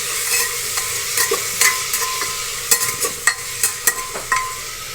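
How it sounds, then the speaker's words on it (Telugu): Peanuts and onions frying in a pan on a gas stove, a steady sizzle with repeated scraping and stirring clicks from a spoon, close and fairly loud throughout. "గ్యాస్ తగ్గించుకొని నిదానంగా వేయించుకోవాలి"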